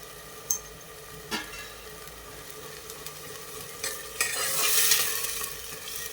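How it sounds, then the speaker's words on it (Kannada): Chicken biryani masala with turmeric, oil and ghee frying in a pan, with scraping stirs and a sizzle that swells loudly toward the end, with no voices. "ಚಂದ ಫ್ರೈ ಮಾಡಿ ಈ ಥರ."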